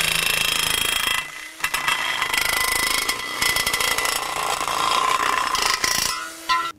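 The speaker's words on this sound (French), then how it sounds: "On va donc découper à froid et pour ça on utilise un outil un peu spécifique qui s'appelle une grignoteuse." A metal nibbler cuts cold through a steel joist for a tiled terrace frame, giving a loud, continuous harsh grinding and rasping with a few brief pauses and a final drop near the end.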